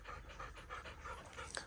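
A dog named Forrest pants steadily on an outdoor pack walk with other dogs, quick rhythmic breaths close by over faint outdoor background, with a brief sharper sound near the end.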